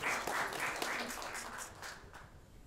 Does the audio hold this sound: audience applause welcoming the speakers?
yes